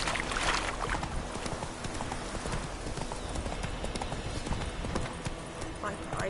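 Horse hooves clip-clop steadily in The Watcher 3 video game, a continuous ride under game music and other sound, with voices talking over it.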